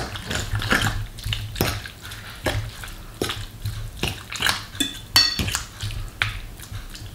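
Pulled pork being mixed with sauce in a dish, a series of wet squelching stirs and utensil scrapes against the dish in an uneven rhythm, close and moderately loud, with no talking.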